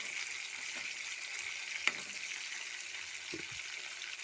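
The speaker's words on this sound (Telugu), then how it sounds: "అవి తీసుకొచ్చి నూనెలో ఇలా వేపుకోవాలండి" Cleaned dried fish fry in oil with a soft, continuous sizzle at low level, broken by a sharp clink and a couple of faint stirring knocks.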